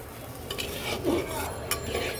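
Prawn masala being stirred in a pan after a little water goes in, a soft steady sizzle with scraping spoon strokes and occasional clinks of metal.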